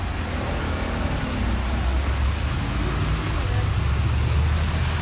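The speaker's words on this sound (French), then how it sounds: "Aïe, aïe, aïe, la pluie, c'est la merde." Rain falling on a street with traffic passing, a steady broadband hiss over a continuous low rumble that holds level for the whole stretch.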